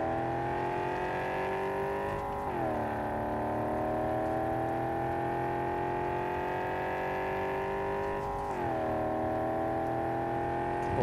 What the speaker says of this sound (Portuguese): O somzinho do motor é da hora, hein?